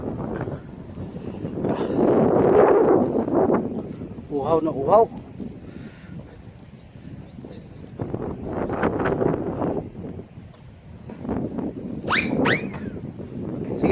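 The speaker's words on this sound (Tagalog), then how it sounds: "Lakas pa naman ang hangin." Strong wind gusting over a small boat on open water, heading home in the late afternoon, rumbling and buffeting the microphone in surges while people talk over it.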